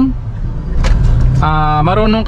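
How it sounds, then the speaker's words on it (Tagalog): Steady low engine drone of a manual-transmission car being driven, running continuously underneath a voice talking. "para hindi ka mapagod agad sa pagmamaneho ng manual transmission na sasakyan"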